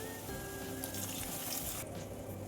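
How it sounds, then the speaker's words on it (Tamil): Tamarind water poured into a curry pan of sautéed tomatoes, a steady close splashing pour with a brief hiss, ending abruptly. "அந்த புளி தண்ணியை ஊற்றிக்கிடுவோம்"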